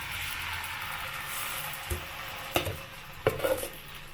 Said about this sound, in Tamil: குழி பணியாரக்கல்ல எண்ணெய் சேர்த்துட்டு நம்ம ரெடி பண்ண மாவை பணியாரமாக ஊற்றி எடுத்துக்கலாம்.